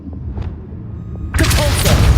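A Descendo spell cast in Hogwarts Legacy lands as a sudden loud booming impact partway through, following a quieter stretch of soft game ambience and faint effects.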